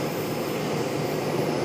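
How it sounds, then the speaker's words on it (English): A Boeing 777-300ER arriving from London lands at Charlotte airport, its engines giving a steady, broad, fairly loud roar that holds even throughout, with no voices over it. "777-300ER from London, our last big boy."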